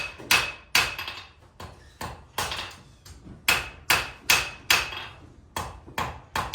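A blacksmith hammers a hot steel bar to taper its end for collaring, sharp ringing blows landing in a steady rhythm of about two per second, close and loud with no talk.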